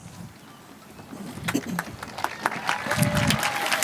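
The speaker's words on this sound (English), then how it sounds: "Let's give them all a big round of applause" A crowd at a high school graduation ceremony at Azusa Pacific breaks into applause, starting as scattered claps and swelling into fuller clapping, with murmuring voices and some talk mixed in.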